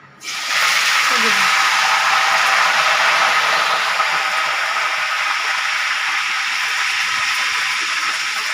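Washed curry leaves dropped into hot oil for an aval (flattened rice) mixture: a sudden loud, steady crackling hiss and sizzle that holds for several seconds, close up.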